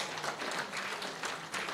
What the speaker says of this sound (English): Can we give him another big round of applause?